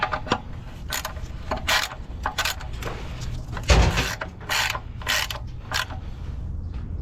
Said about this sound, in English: we're going to tighten it with our 1/2-inch socket